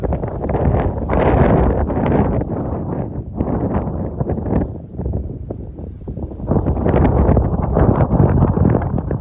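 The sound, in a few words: wind blowing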